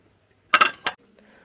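Three bright clinks of glass plates tapping together, two close in quick succession and a third a moment later, in an otherwise quiet room.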